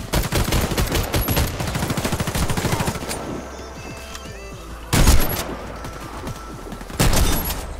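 Repeated MAG-7 Atlas shotgun blasts in a first-person shooter game, loud dense bursts of fire in the first three seconds, then two sharp isolated shots a couple of seconds apart over quieter background sound.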